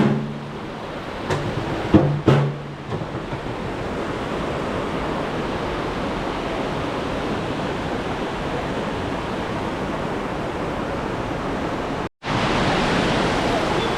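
Waterfall in the Atlas Mountains near Imlil, Morocco, a steady loud broadband rush of falling water, close and continuous, with a few brief knocks near the start and a momentary dropout near the end.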